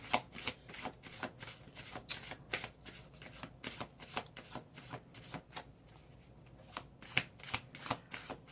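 Close, crisp riffling of tarot cards being shuffled by hand, a steady run of quick papery flutters and taps that pauses briefly partway through, then resumes, with no talking.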